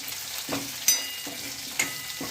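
Okra and curry leaves fry in an oiled pan, a steady close sizzle broken by a few sharp stirring scrapes and crackles, with no voices.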